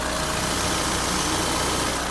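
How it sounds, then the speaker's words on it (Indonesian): A car engine idling steadily up close during a radiator coolant flush, a continuous rumbling hum with no voices. "Ini mesin hidup"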